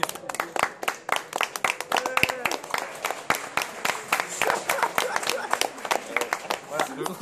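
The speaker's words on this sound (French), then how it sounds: "on applaudit parce qu'on va pouvoir dormir" Scattered, uneven clapping from a small group at a late-night gathering, with sharp individual claps and voices talking throughout at moderate, close range.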